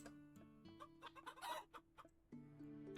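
Chicken clucks in a shop-building video game, a string of short, close clucks over a steady tonal music bed, with no talking.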